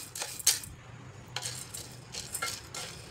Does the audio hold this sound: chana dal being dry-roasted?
yes